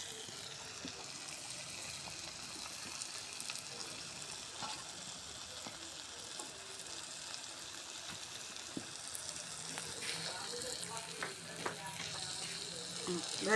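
Vegetable bhaji of onion, pointed gourd and potato frying in oil in a pan, a steady soft sizzle throughout with occasional stirring scrapes and light clinks close by.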